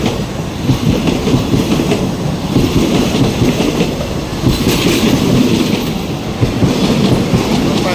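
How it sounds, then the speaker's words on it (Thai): A train rumbles past close by through the Khlong Tan railway market in Thailand, with steady clickety-clack of wheels on rails, loud and continuous throughout, with faint metallic squeals. "รถไฟมาเร็วนะครับระวังรถไฟด้วยนะครับ รถไฟกำลังสิมาพี่น้องเลย"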